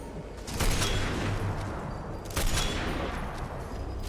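Sniper rifle gunfire in the Sniper Elite 4 video game, two sharp blasts roughly two seconds apart over a steady, noisy in-game background, with no talking.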